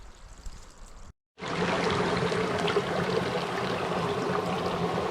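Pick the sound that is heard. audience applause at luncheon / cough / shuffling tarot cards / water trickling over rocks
water trickling over rocks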